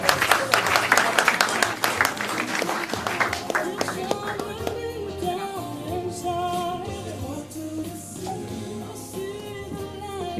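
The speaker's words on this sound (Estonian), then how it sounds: "Aplausi parimatele." An audience at the Saue sports stars 2019 awards gala claps for the best athletes, a burst of applause that fades into music and voices.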